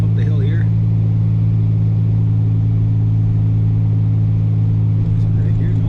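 A car's engine labors and revs steadily as its wheels spin out on a snowy hill, with a constant low drone up close and a voice talking briefly over it.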